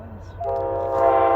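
An Amtrak ALC-42 locomotive passes close by a house and sounds a loud, sustained horn blast over its rumbling approach.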